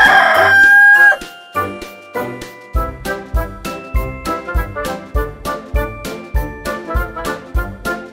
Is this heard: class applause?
no